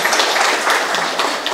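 An audience at a Buddhist felicitation ceremony and reflection meeting claps in a brief, dense burst of applause, loud and steady before easing slightly at the end.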